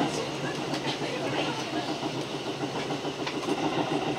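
Tobu 6050 series train running between Shin-Tochigi and Shin-Kanuma as a section rapid service, with a steady rolling rumble and faint rail clatter heard from inside the car at an even level throughout.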